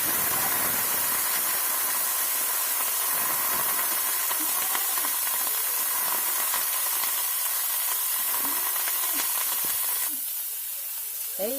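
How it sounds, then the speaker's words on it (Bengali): Vegetables with a chili fry in a pan over a wood fire, giving off a steady, close hissing sizzle that softens slightly near the end. "এবারে সবজিগুলো দিয়ে একটু ভেজে নিই"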